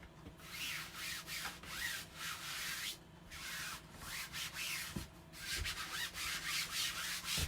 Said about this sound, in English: Now we rub it down real nice.